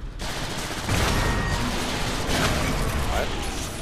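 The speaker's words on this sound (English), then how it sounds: "I just got shit on by a turret." Turret gunfire in Transformers: War for Cybertron: a relentless, loud stream of rapid mechanical shots and blasts fills the whole stretch, with a sharp surge of intensity about one second in.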